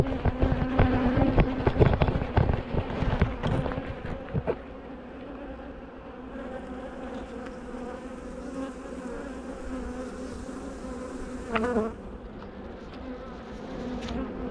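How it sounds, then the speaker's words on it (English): Aggressive honey bees at an open hive give a dense, close swarm of buzzing that drones steadily throughout, louder at first with some handling knocks, and individual bees whine past now and then. "So these bees are a bit aggressive, same as the hive next to them really."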